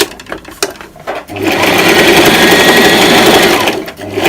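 A sewing machine stitches a seam on a T-shirt dress in one loud, continuous run, starting after a few faint clicks and stopping just before the end.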